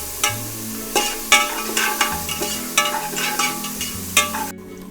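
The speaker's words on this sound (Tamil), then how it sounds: "இப்போ பூண்டு பேஸ்ட் இது ஒரு 2 நிமிஷம் வதக்கிக்கோங்க." Garlic paste stirred and frying in a pan with golden brown onions for mutton biryani, a steady sizzle broken by several sharp scraping stirs, close and fairly loud with no talking.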